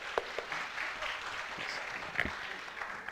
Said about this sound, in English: So with one finger, we'll have to start clapping.